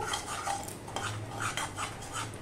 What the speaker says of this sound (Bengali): দিয়ে সমানে নাড়তে থাকবো।